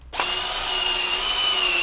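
A Vevor electric wire stripping machine strips insulation from copper cable. Its motor starts almost at once and holds a steady, close whirring drone with a constant pitch for the rest of the clip, with no talking.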